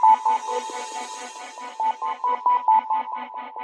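Dark ambient synth loop playing a simple semitone melody, its notes chopped into steady tremolo pulses, clear and close with nothing else underneath.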